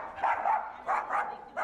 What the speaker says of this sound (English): She barks when she's supposed to.